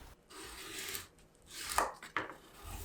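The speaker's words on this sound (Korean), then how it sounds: "양파 반개, 당근 3분의 1개, 양배추 한두 장 정도 채 썰어요." A knife julienning onion, carrot and cabbage on a board makes a few quiet, close chopping strokes and scraping cuts, with two sharper knocks near the end.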